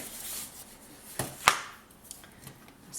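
A couple of short, crisp cuts through scrapbooking paper trimmed before gluing for a stacked-page folio, two distinct snips close to the mic against quiet room tone.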